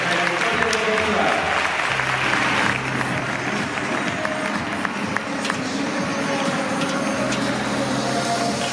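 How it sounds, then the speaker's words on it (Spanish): Applause from the audience at a local sports awards gala in Jaraíz de la Vera, a dense steady patter mixed with crowd murmur and the low hum of music or amplified sound running beneath it throughout. "Aplauso enorme para Jesús y Barquero de la historia deportiva."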